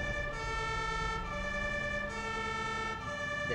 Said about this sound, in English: So do I get sirens too?